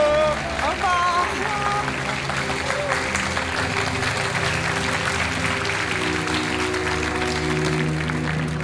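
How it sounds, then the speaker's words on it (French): Studio audience applause on the French TV game show Money Drop as contestants leave, loud continuous clapping layered over a swelling musical sting, with a brief voice at the very start. "On vous laisse repartir par là sous les applaudissements."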